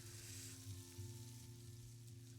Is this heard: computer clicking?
no